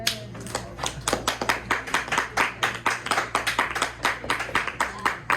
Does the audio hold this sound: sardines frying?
no